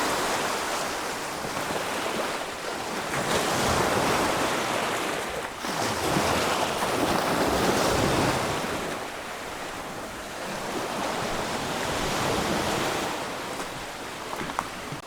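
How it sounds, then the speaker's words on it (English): Surf washes onto a small secluded white sand beach cove on Siquijor island, with broad rolling wave surges rising and falling every few seconds under steady wind noise. "this is like a much smaller beach or a much smaller cove beside the cove"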